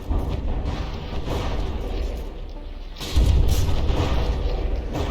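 Mortar fire in the naval combat game From the Depths, with a battleship under bombardment: heavy, booming thuds that roll on continuously, swelling louder and denser partway through, with no talk over them.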